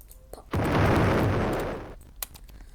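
Bomb blowing up a house in a video game: one loud booming blast lasting about a second and a half, then fading into a brief rumble, with small pops before and after.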